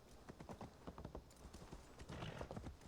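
Horse hooves clip-clopping in Assassin's Creed Valhalla, a quick, uneven run of sharp hoof strikes on rough mountain ground, close and fairly quiet, with no talking.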